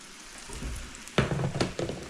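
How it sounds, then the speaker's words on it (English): French toast frying in a pan, a soft steady sizzle with faint crackles that swells louder partway through, with a few sharper spatters and pops, no voices. "I think this will take about as long to finish frying as it will take my tea to steep"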